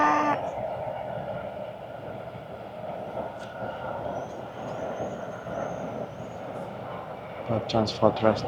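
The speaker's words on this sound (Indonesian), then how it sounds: "Ada kereta." A train rumbles past at a distance near a small beach in Ladenburg with a steady low roar, and a few voices break in near the end.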